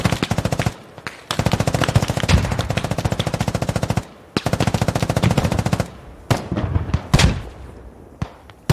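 Machine gun fire in the video game Squad: loud, rapid sustained bursts of shots, several long strings separated by brief pauses, then a few scattered single cracks and distant thumps.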